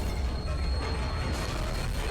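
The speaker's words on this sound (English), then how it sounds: "Dodge that train." A train in the video game Dead Space 2 rushes past in a dense, loud rumbling roar with metallic screeching, continuous and close throughout the clip.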